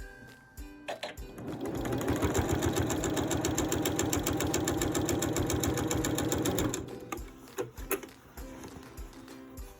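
A sewing machine stitches a quilt's binding along the edge in one steady, rapid run of needle clatter lasting several seconds, starting and stopping with a few mechanical clicks on either side.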